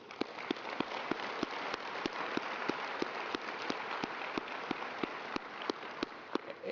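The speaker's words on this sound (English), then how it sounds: "If we could have one more round of applause for all of our honorees." Steady applause from an audience at an awards ceremony honoring companies, a dense wash of many hands clapping with sharp individual claps standing out, continuous and moderately loud throughout.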